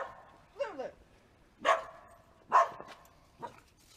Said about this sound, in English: Ah, scary dog.